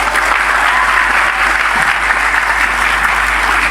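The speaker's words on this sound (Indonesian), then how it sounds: "Tepuk tangan untuk Indonesia." Steady audience applause at a Ramadan religious talk, dense continuous clapping from a large crowd, loud and even throughout with no talk over it.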